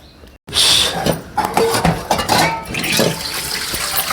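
Water streams steadily into a glass, a continuous splashing pour with a brief pause at the start, no voices.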